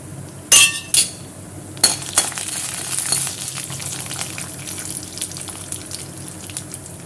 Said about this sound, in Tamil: கடலப்பருப்பை வந்து பொன்னரெல்லாம் சிவக்கும் போதே இப்போ வந்து நம்ம இந்த ஜீரகத்தையும் சேர்த்து நல்லா பொன்னரெல்லாம் வரத்துக்கணும்